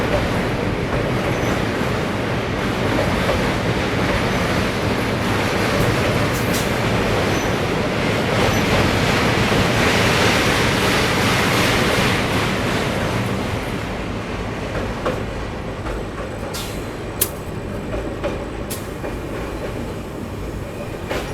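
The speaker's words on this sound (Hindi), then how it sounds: "कॉशन लगा हुआ है इसलिए ट्रेन स्लो डाउन हुई है" A Guwahati–New Delhi Rajdhani Express rolls slowly under a caution order, a steady rumble of wheels and carriage noise with soft rhythmic clatter, heard from on board and easing slightly toward the end.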